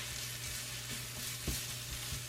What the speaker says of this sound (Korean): 올리브 오일 1숟가락 넣고 살짝 볶아주세요